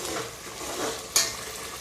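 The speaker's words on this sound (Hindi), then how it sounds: "प्याज को भूनने के बाद इससे 1 छोटा चम्मच हल्दी डाल दें, तो डाल के इसको भी हल्का सा भून लें" Onions sizzling steadily in a pan as turmeric is added and stirred in, with a brief sharp clink of a utensil near the end.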